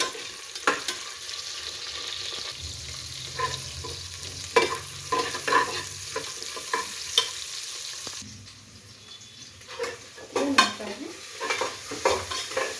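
Onions sizzle in hot oil with cumin and bay leaf in a pan while being stirred for pulao, with a steady close frying hiss broken by repeated scraping spoon strokes and clinks.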